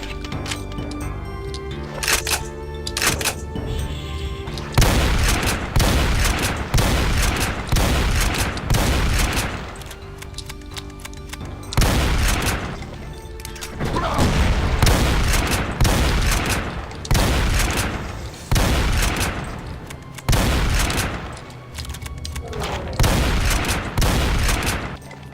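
Grenade explosions and gunfire in the Heretic video game: loud, dense volleys of rapid shots and bursts that break off for short pauses and then resume, continuing throughout.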